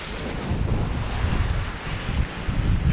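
Strong wind buffets the microphone while waves rush past a sailboat making speed at sea between Zakynthos and the Strait of Messina, a loud, continuous roar of wind and water.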